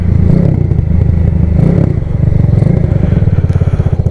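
Lagenda motorcycle on a test ride, its engine pulsing in a loud, close, rhythmic chug with rattling and clattering from the bike as it moves along, and no talk.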